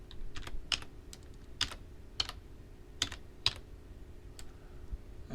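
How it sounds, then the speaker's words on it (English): Typing on a computer keyboard, a handful of light, separate key clicks tapped in an uneven rhythm, quiet and close against a faint background hum. "We're going to type device manager."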